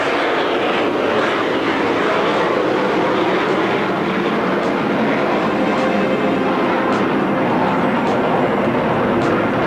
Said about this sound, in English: select full afterburner and will clean up the aircraft while accelerating to 280 knots